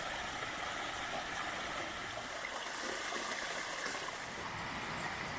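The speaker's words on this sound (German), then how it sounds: "Einfach herrlich, das Bachrauschen und das Vogelgezwitscher zu hören." A babbling mountain stream on a hiking trail near the Schreizen Giessen waterfall in Switzerland, heard as a steady, even broadband rush of water that holds at the same level throughout with no voices.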